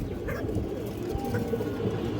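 Kaldom pigeons, an old-line breed, coo softly in low, murmuring tones against a steady background hum, close by and without voices.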